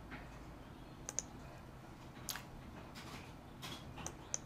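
A few sparse computer keyboard key clicks, close but quiet, separated by pauses over low room noise.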